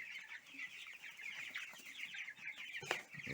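Flock of Cobb 500 broiler chickens clucking and chattering softly while eating freshly poured feed, a continuous faint busy murmur of many birds at moderate distance.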